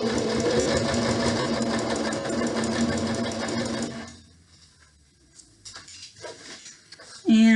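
A sewing machine stitches a pillowcase through thick layers of fabric, a loud steady whirring run that cuts off partway, leaving quiet with a few light clicks before a sharp sound at the end.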